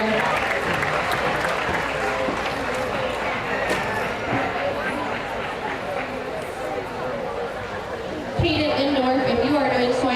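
Applause for kids leaving a livestock show arena at a county fair, a sustained crowd clatter mixed with murmuring voices and animal movement, with an announcer's voice coming in over it toward the end.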